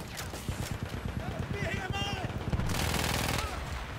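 Rapid machine gun fire in Battlefield 1, a steady stream of loud shots with explosions and game chatter mixed in, continuing close and dense throughout.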